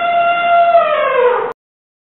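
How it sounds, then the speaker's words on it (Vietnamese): An elephant trumpeting in a single loud, sustained harmonic call that bends slightly downward in pitch before cutting off abruptly, heard alone without talk. "Con voi."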